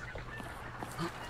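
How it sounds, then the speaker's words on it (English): Birds alerted in a video game cluck and squawk in short bursts over a steady low rumble, with a couple of brief calls standing out near the end. "why you alert the chickens?"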